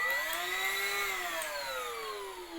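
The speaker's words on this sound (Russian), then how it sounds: "Пылесос, я вам скажу, очень мощный." A Redmond RV-UR363 vacuum cleaner runs steadily up close, a loud constant whine with a slight drop in pitch toward the end, alone with no talk.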